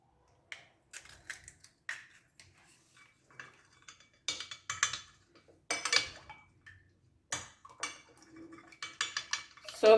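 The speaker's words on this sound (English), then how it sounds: "So we're just beating the eggs" Eggs being beaten in a bowl for a breakfast recipe, with rapid clinking and tapping of a utensil against the bowl in uneven bursts, close and moderately loud, with no talking.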